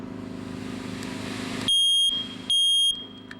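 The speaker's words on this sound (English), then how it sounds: "we should test these smoke alarms once a month to make sure they're working" A household smoke alarm being tested gives two loud, piercing high-pitched beeps, each about half a second long and close by, followed by a fainter third tone.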